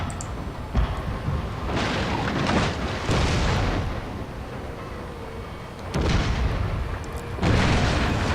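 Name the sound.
cannon fire from ships in the video game Shogun 2: Fall of the Samurai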